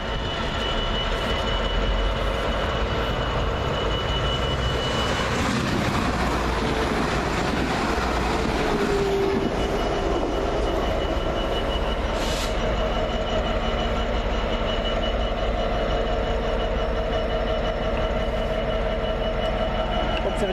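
Passenger train from Stourbridge Junction arriving at Small Heath station, a loud, continuous rumble of wheels and engine close by, with a brief screech of wheels partway through and no talking.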